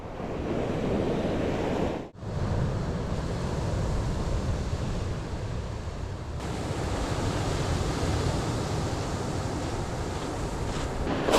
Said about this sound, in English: Tide's really coming in now.